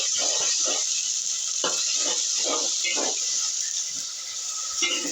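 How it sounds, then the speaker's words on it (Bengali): Ginger and garlic fry in a pan with a steady, bright sizzle, broken by several brief, soft stirring or scraping sounds at close range. "এই দেখেন আমি এখন আদা রসুনগুলো ভাজছি।"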